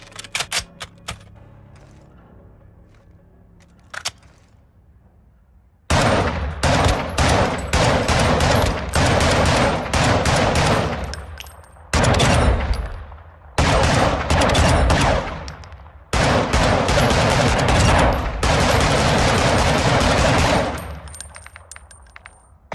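A Scar H rifle from Call of Duty: Modern Warfare II fires in loud, sustained rapid bursts, several long strings of shots separated by brief pauses, after a quiet opening with faint clicks.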